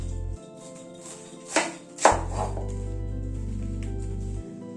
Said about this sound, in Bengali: বাঁধাকপিটাকে কিন্তু আজকে একটু বড় বড় করে কেটে নেব।